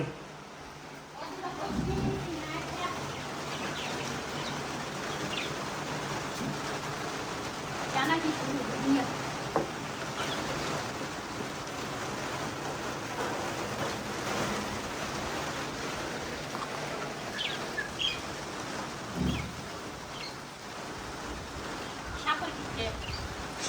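Soft, steady rainfall hisses in the background while people talk intermittently over it, with a few brief knocks and faint bird calls.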